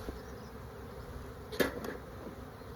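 Honeybees buzz in an opened backyard hive while smoke is puffed in, making a steady, dense hum throughout with a brief knock partway through.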